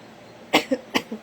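Two quick pairs of close, sharp coughs break a quiet background, each burst followed by a softer second cough.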